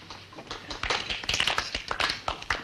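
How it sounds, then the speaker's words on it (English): A small group claps in scattered, uneven bursts, close and fairly quiet, building slightly before tapering off. "There will now be great gobs of appreciative, unsolicited applause."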